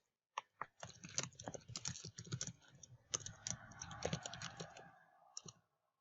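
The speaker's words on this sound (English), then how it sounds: "Let's type that in anyway" Typing on a computer keyboard, a rapid irregular run of close, crisp key clicks with a few louder strokes, fading out near the end.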